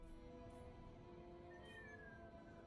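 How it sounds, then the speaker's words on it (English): A house cat meows with a drawn-out, rising call, heard faint and fairly close over a steady low background hum, with no voices. "That's you, kitty. That's what you sound like."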